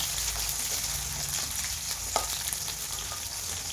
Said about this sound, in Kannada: ಆಮೇಲೆ ಅದಕ್ಕೆ ಸ್ವಲ್ಪ ಬೆಳ್ಳುಳ್ಳಿ, ಶುಂಠಿಯನ್ನು ಸೇರಿಸ್ಬೇಕು, ಮೆಣಸಿನ್ಕಾಯಿ ಇದೆಲ್ಲ ಹಾಕಿ ಫ್ರೈ ಮಾಡಬೇಕು.